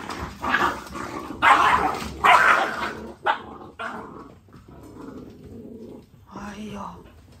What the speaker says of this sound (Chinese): 你看这小狗它这样打架